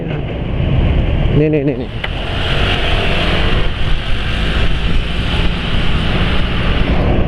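A motorcycle engine runs smoothly and steadily close by, a continuous low rumble throughout, with a brief spoken word near the start.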